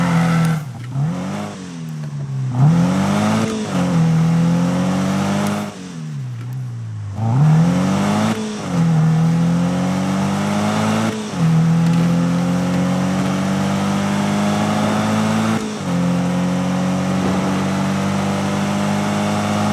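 A car engine in a Need for Speed racing game revs repeatedly, rising and falling in loud, sustained pitch sweeps before settling into a steady high drone, with no talking.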